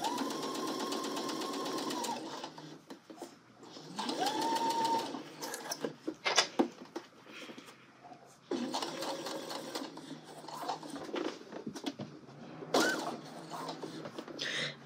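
A sewing machine stitches a sleeve seam in several steady, close runs of rapid mechanical whirring, separated by short pauses with handling clicks and a little quiet talk.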